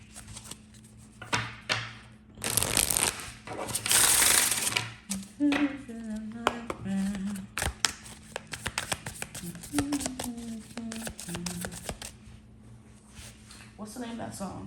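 Tarot cards get shuffled in bursts of rapid riffling and flicking close to the mic, with softer card taps and slides in between and someone talking throughout.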